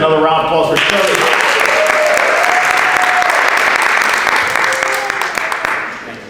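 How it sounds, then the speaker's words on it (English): Loud, close applause from an audience at a city employee appreciation ceremony rolls on steadily for several seconds, with voices and cheers mixed in before it tapers off. "Let's have another round of applause for Shirley."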